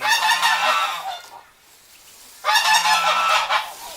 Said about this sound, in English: geese giving their advice.